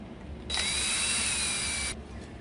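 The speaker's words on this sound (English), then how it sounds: "You want to make sure you take that screw out." A power drill runs steadily for about a second and a half, backing a screw out of a hugger ceiling fan motor, loud and close with no talking.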